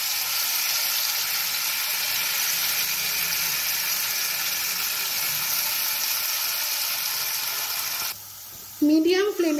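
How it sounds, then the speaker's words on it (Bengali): Gobindobhog rice frying with cumin in a pan gives a steady, close sizzle for about eight seconds, then drops off as a short voice and a stirring clatter come in at the end. "দিয়ে একটু যখন জিরেটা ভাজা হবে তখন আমি গোবিন্দভোগ চালটা ভেজে নেব।"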